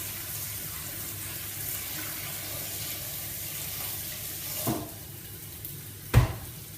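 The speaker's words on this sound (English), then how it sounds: "Run it under some cold water." A kitchen tap runs cold water over food in a sink for a sausage casserole, a steady hissing stream followed by a couple of louder splashes or clunks near the end.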